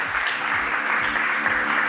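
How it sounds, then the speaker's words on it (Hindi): An audience at a corporate award night in Surat applauds steadily for team members, a dense, loud clapping that holds evenly throughout. "जोरदार तालियां इन सभी मेंबर्स के लिए होनी चाहिए आपकी"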